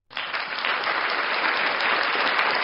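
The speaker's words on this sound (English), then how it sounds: "Oh my God, I gotta give a round of applause to Steven." Steady applause begins abruptly and holds at an even, dense level for nearly three seconds, close and full with no voices over it.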